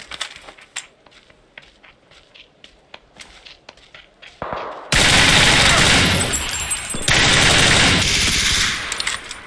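Sustained automatic gunfire in the battle royale game PUBG, loud and dense, bursting in after scattered footsteps and small clicks, with a brief pause before the rapid firing resumes.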